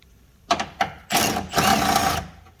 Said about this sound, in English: So I'm going to take off 1, 2 10 millimeter bolts.